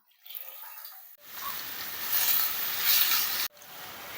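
Ridge gourd sautés in a hot pan with a steady, moderate sizzle and hiss that swells, breaks off briefly, then resumes.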